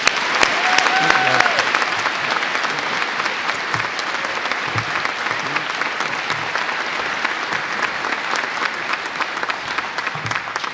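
Sustained audience applause fills a Veterans Day gathering honoring a family, a dense steady wash of clapping from a crowd that carries on for over ten seconds with a few faint voices mixed in.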